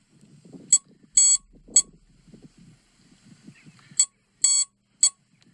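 An electronic alarm on a crashed Yak 54 model aircraft beeps sharply in two clusters of three short and long tones, loud and close, with faint rustling between them and no speech.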